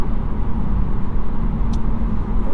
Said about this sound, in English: Good amount of road noise.